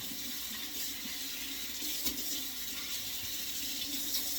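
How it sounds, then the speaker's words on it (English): Cold tap water pours steadily over a boiled egg, a continuous close hiss and splash that stays faint and even throughout. "Take a little egg, put some cold water over it."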